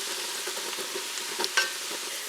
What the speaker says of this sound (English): So I switched to my wooden spoon so I can get those little bits off the bottom of it.